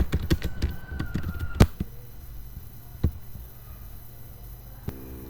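Quick keystrokes on a computer keyboard come in a short clustered burst at the start, followed by a few isolated taps and clicks spaced out against a quiet background.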